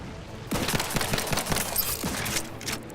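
Rapid pistol fire in The Outer Worlds 2, a fast burst of close, loud shots cracking in quick succession for about two seconds before trailing off.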